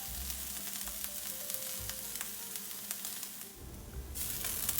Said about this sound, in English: after a few minutes and it's charred just the way you like, go ahead and stir it up